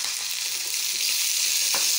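Green chillies frying in a pan with cumin and fenugreek, a steady close sizzle with soft crackles throughout.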